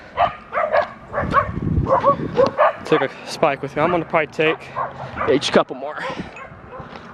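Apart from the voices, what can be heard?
dogs barking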